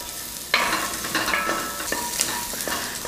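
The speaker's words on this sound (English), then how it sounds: "So while the onions saute" Onions sautéing in rendered beef short rib fat inside a cast iron Dutch oven, a steady loud sizzle with occasional stirring scrapes and crackles, close and continuous with no talking.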